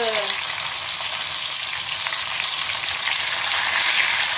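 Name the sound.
prunes browning and sizzling in a pan with lamb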